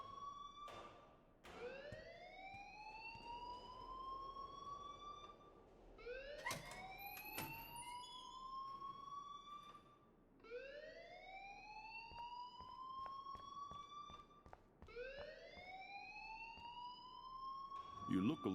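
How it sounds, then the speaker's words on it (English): Alarm ringing in the Life is Strange video game, a repeating rising electronic whoop that sweeps upward in cycles, steady and moderately loud across the stretch with faint clicks and background noise beneath. "please turn off that alarm since that's your job"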